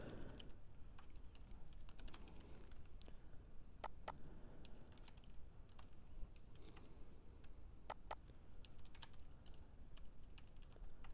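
Fingers type on a computer keyboard to rename layers in design software, a quiet, close run of irregular clicking keystrokes continuing throughout.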